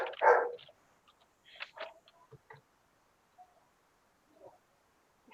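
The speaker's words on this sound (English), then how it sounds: "Without my barking dogs." Dogs barking indoors: one loud bark at the start, then scattered quieter barks and yips with gaps of silence between them, fairly distant.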